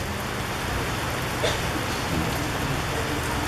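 Rain falls steadily on an outdoor park ceremony unveiling a peace girl statue in Brookhaven, Atlanta. It makes a constant, dense hiss with scattered droplet patter, even and unbroken throughout.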